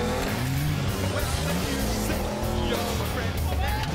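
A 4WD vehicle revs hard as its wheels search for traction, its engine drone rising and falling continuously, loud and close, with a voice talking over it.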